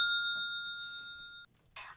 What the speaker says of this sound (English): We gotta hit the bell.